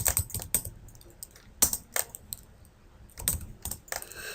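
Commands tapped out on a computer keyboard, with close, irregular clusters of clicky keystrokes broken by short pauses and no voices.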